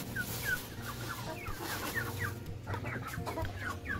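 Farm hens clucking in short repeated bursts near the coop where they are raised, steady and moderately close, with no talk.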